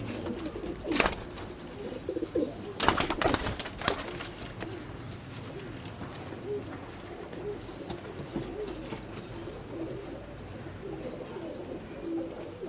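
Pigeons, among them a black red-eyed bird, coo softly in a loft, with repeated low murmuring calls and a few bursts of wing flapping, faint and close, with no talk.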